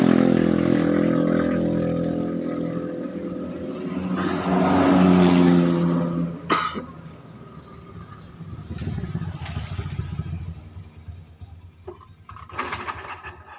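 A Yamaha Jupiter motorcycle engine is kick-started during an ignition check, giving a close, loud mechanical churning and brief running bursts that fade, then pick up again unevenly toward the end.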